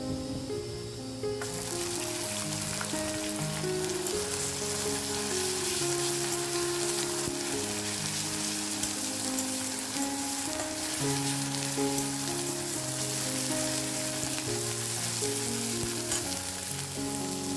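Onion with ginger-garlic paste fries in a pan for a fish masala, a steady, close sizzle running throughout with music playing over it and no talking.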